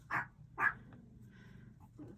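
Two sharp barks from dogs sound in quick succession close by, followed by quieter faint whimpering sounds in an otherwise calm indoor room.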